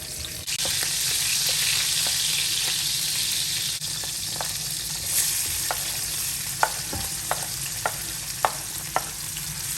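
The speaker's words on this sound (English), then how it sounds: "We have infused this palm oil very well with some chopped red onions and the cured fish" Red onions and cured fish frying in about 80 ml of palm oil for a Ghanaian fisherman's rice base: a steady close sizzle with light stirring. Sharp pops and spatters break through more often toward the end. Nobody speaks.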